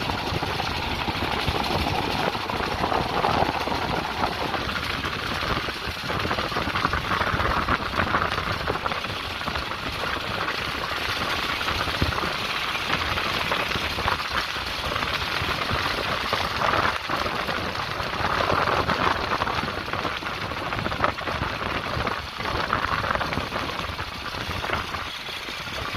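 Honda GX390 generator engine powering a dune buggy on a first test run over sandy empty plots, a steady rough engine drone with a rattling, knocking texture throughout, fairly close and continuous for the whole stretch.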